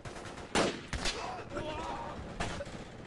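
Gunfire crackles in a large Project Reality infantry battle: a few distinct shots, two close together early and another a moment later, over a steady background of distant battle noise, with faint voices.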